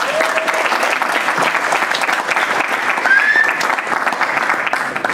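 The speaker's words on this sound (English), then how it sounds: "Maybe give him a little round of applause." Audience at a Salesforce integration and analytics talk breaks into steady applause, a dense, sustained clatter of many hands lasting the full few seconds, loud and close, with a brief voice over it.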